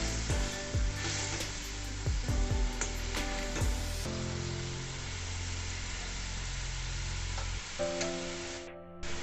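Egg curry with cauliflower and water being stirred in a pan over a gas flame, with spoon scrapes and taps against the pan and a steady sizzle, the scraping fading after a few seconds to leave simmering hiss.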